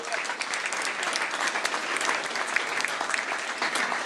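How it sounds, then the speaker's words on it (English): A mosque audience gives a round of applause for new brothers, a continuous patter of many hands at moderate level with no break. "give them another round of applause as they go"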